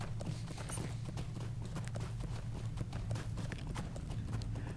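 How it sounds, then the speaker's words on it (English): Horse hooves in the Lord of the Rings Online video game, a steady rhythmic clip-clop of a ridden horse over a constant low background rumble, moderately quiet. "I'm riding a horse as it is"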